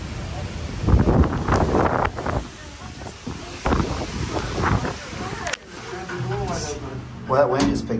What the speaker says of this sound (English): Well, that wind just picked up.